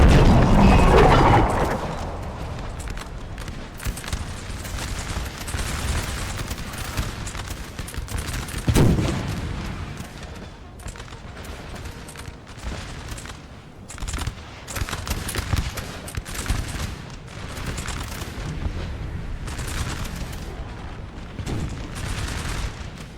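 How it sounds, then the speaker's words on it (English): Massed gunfire and cannon booms from a Napoleonic battle in Napoleon Total War, with dense crackling volleys running throughout, a heavy blast near the start and another deep boom midway, loud and continuous with no talk. "that is the power of this artillery"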